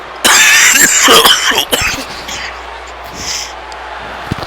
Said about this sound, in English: Once again I'm coughing